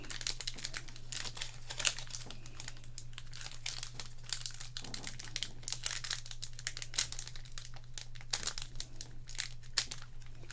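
A crinkly plastic trading-card pack for Flesh and Blood is wrestled open by hand, giving a steady run of close crackling and crumpling with small tearing bursts and a low background hum, no talking.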